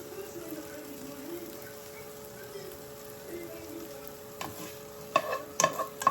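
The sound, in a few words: sirloin steak frying with pepper, onion and mushrooms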